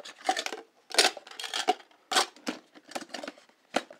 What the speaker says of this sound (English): And they screw together.